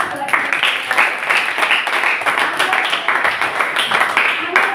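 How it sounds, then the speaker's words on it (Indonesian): An audience at a junior high school coaching session applauds in a steady patter of claps, with voices calling out and chattering over the clapping throughout. "Tepuk tangan dulu"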